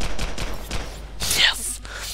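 Assault rifle fire in the Global Agenda shooter, a rapid burst of evenly spaced shots rattling at close range, followed by a sharper bright impact and some fainter shots, with a voice faintly underneath.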